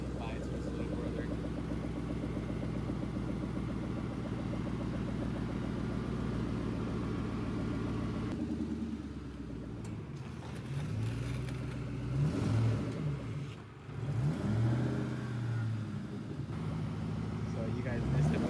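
A Ford Cobra sits idling with a steady, close rumble, then revs in several uneven bursts as it pulls away; people talk throughout.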